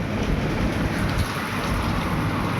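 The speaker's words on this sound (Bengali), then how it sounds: "আর বৃষ্টি ভালো জোরেই নেমেছে" Heavy rain pours down hard, a dense, constant roar of drops drumming on surfaces with no break and no voices.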